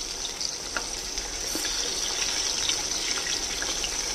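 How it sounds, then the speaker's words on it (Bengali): Pointed gourd (potol) pieces frying lightly in hot oil give a steady, close sizzle with faint crackles and a few soft stirring clicks. No voice is heard. "পটলগুলোকে ভেজে নেব।"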